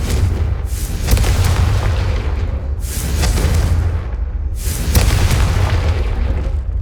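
Three booming fiery blasts from the Confringo spell in the Hogwarts Legacy video game, each a loud burst at roughly two-second intervals over a constant low rumble.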